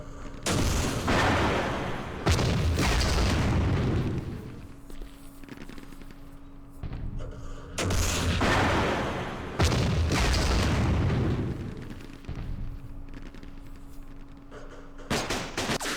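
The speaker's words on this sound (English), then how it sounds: "RPG's hitting us" RPG rockets striking in the Vietnam war game Campaign Series Vietnam, Battle of Ba Ria 1968: heavy booming blasts come in two long rumbling waves, each trailing off into quieter gaps.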